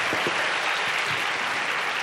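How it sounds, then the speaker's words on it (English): An audience at a college event claps loudly and steadily throughout, a dense, continuous wash of hand claps with a few sharper claps standing out near the start. "Thank you for the big applause to Basil."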